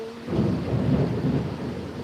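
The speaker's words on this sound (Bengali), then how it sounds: "আকাশে অনেক মেঘ ডাকছে আর এত এত বৃষ্টি হচ্ছে" Thunder rumbles low and heavy over steady pouring rain during a monsoon storm, a rolling boom swelling through the middle of the clip above a constant broadband wash of falling water.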